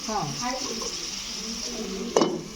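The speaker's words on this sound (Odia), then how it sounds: "ଆଳୁ କଦଳୀ ଭଜା କରୁଛୁ" Potato and plantain fritters frying in a home kitchen pan, a steady close sizzle running throughout with a brief louder clatter near the end, while a voice talks over it.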